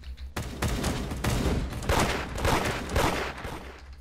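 Dense, continuous bursts of gunfire in a competitive shooter video game, rapid overlapping shots that stay loud and close for about four seconds with no break.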